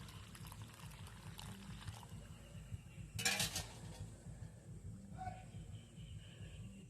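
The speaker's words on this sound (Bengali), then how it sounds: "তো এই গরম জলটা আমি এই সুজি আর চালের গুঁড়োর মধ্যে দিয়ে দেব।" Lukewarm water is poured into a bowl of semolina and rice flour in a home kitchen, a short splashing pour over a steady low background hum with faint clinks before and after.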